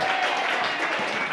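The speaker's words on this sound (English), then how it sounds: "How about a round of applause" A comedy-night audience at a burlesque show applauds in a brief, steady burst of clapping, fairly loud and without talk.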